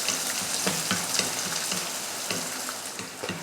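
Chopped onion, mustard seeds, urad dal and curry leaves sautéing in hot oil, a loud close sizzle with regular scraping strokes of a spoon against the pan.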